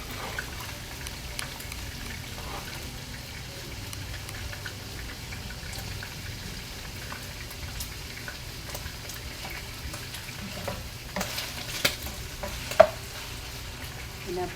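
Meat is being softened and cooked in a pan, with a soft, steady sizzle and occasional stirring clinks and scrapes near the close.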